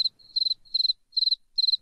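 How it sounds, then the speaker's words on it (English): Australian cicadas singing nearby, loud and alone: four rhythmic bursts of rapid, pulsing buzzy chirps at a steady pace, with quiet gaps and a faint sustained tone linking the first two. "They're cicadas."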